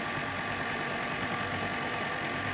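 A stand mixer fitted with a dough hook kneads salted bread dough on speed 1, giving a steady, even motor drone with a low rumble throughout and no voices.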